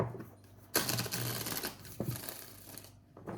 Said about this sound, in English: Let's check the tarot. Let's see what we pull. Shuffling for Scorpio.